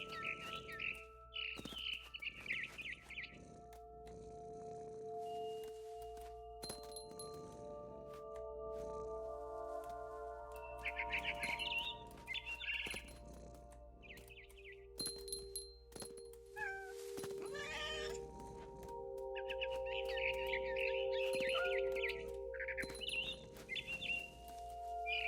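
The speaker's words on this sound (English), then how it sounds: "Then I heard chirping outside my window. It was a barn swallow going back to her nest." Bird chirps from a barn swallow in the video game What Remains of Edith Finch, bright twittering bursts that come and go over a steady hum and layered game sounds, with cat-like meowing tones mixed in.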